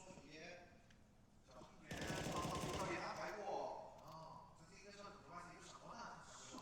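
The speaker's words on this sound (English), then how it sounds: "JKS tries to fire down beside the sandbags" Rapid gunfire bursts from Counter-Strike: Global Offensive during a professional match on the Vertigo map, a loud dense volley of about a second and a half that rises out of ongoing commentary voices and fades back under them.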